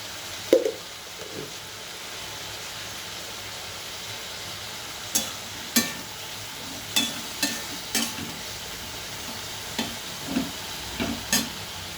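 Salted potato pieces fry in hot oil for an eggplant and small-fish curry, making a steady low sizzle broken by a series of sharp stirring clatters, with no voices.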